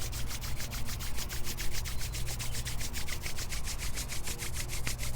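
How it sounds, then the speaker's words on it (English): Bare soles of the feet rub briskly together in a fast, even back-and-forth rhythm, a close, soft swishing friction sound repeated steadily with no talking. "rub the soles of your feet together"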